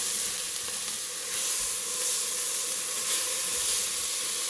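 Carrots sizzling in a hot pan while stirred for butternut squash soup, a steady hissing sizzle that stays even and close, with no voices.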